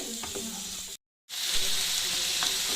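Spring onion thoran being stirred as it sizzles and fries in a hot pan, a steady loud close hiss with scraping of the spoon, broken by a brief silent gap.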